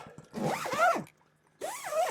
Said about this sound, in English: Now you just zip things back up